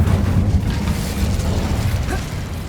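The Incendio fire spell in Hogwarts Legacy bursts out as a loud, dense whooshing roar of flame with crackling and low rumble, sustained for a couple of seconds.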